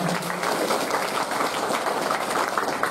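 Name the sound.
applause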